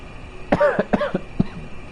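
A few short, harsh coughs in quick succession, close by, followed by a softer cough a moment later.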